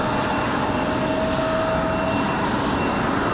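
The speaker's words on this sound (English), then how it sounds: "Looks like we got an A220 from Delta" A Delta Airbus A220 jet at Raleigh-Durham airport on a windy day produces a loud, sustained engine roar with a steady whine, unbroken from start to finish.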